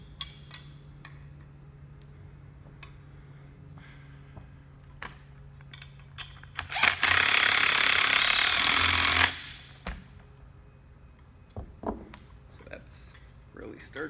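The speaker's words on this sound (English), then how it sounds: "we're forced to use a drill" A hand-held power drill boring a square hole through a piece of wood for a rolling spindle, a loud steady burst of about two and a half seconds in the middle, surrounded by quieter clicks and workshop handling sounds.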